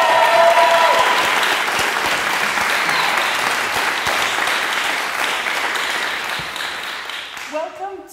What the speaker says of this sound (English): That was amazing Hollywood style applause for our guest today, Dr. Don Greene.